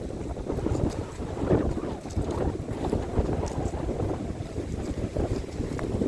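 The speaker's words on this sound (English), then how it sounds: "Really windy" Steady, heavy wind at a lakeshore point buffeting the microphone with a constant low roar, broken by occasional louder gusts.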